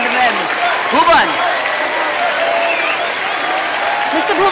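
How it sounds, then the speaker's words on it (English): Audience applause at a press conference with a singer and YouTubers, loud and sustained across the clip, with a voice calling out over the clapping. "A huge round of applause, ladies and gentlemen."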